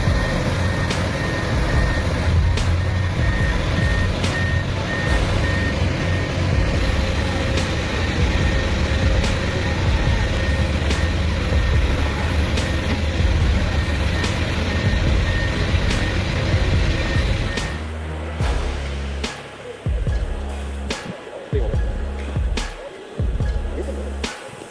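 A heavy truck stuck in mud grinds and roars continuously during a recovery, with a faint high tonal beep above, then the engine note breaks into uneven bursts near the end.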